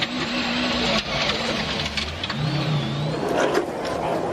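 Subaru rally car approaching at speed on a 1996 World Rally Championship stage, engine revving and rising in pitch as it nears, with a narrator talking over it and background noise throughout.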